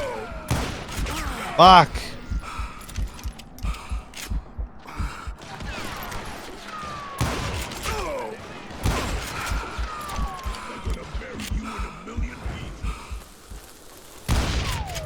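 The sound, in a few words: gunfire in video game Call of Juarez: Gunslinger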